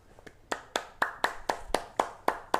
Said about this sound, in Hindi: एक बार आप सब लोग ताली बजाइए